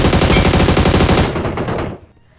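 Rapid automatic gunfire in the mobile battle royale game BGMI, a loud close sustained burst of rhythmic shots lasting about two seconds before cutting off abruptly into quiet.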